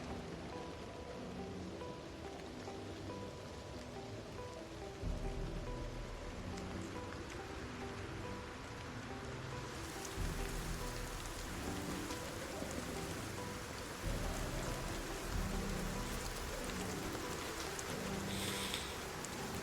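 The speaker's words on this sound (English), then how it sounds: "the freaking rain sounds are fucking me up" Steady heavy rain in the Project Zomboid video game, a dense continuous hiss of drops pattering on surfaces with occasional low rumbles, no voices over it.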